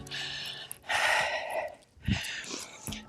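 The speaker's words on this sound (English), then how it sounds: "I'm breathing faster. I know you can tell because you can hear me on my microphone." Fast, heavy breathing picked up close on a microphone, with loud gasping inhales and exhales in uneven bursts and short quiet gaps between them.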